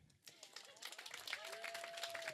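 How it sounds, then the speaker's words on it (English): An audience claps for the women standing at a holistic chiropractic and energy-healing talk. Dense, steady applause swells in after a brief quiet start, with a few high whoops or whistles rising above it. "Can you guys love on them with some clapping?"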